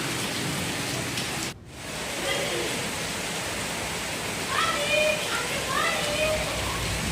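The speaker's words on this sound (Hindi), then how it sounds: "तो बारिश बहुत ज़बरदस्त हो रही थी" Heavy monsoon rain pours steadily, a dense close hiss with a brief dip partway through, while faint chirps sound in the background.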